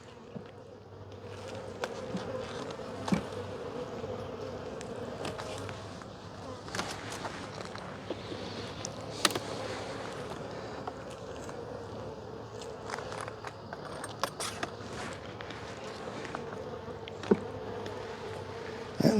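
Honey bees buzz around an open hive, a continuous close droning hum with individual bees passing near, alongside occasional handling clicks and quiet speech.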